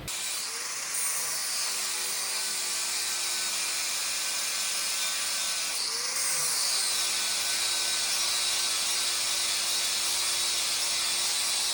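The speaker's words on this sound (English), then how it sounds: "my dad just finished grinding down the end of the Pitman arm that we're going to use for the splines" A steel Pitman arm for a Jeep TJ build being ground down with a power grinder: a loud, steady high whine that runs throughout, dipping slightly in pitch as the tool bites into the metal.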